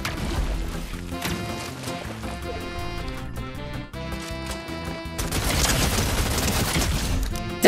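Dense, continuous gunfire from a Fortnite match, rapid overlapping shots with impacts and game music layered underneath, loud and sustained throughout with a brighter burst toward the end.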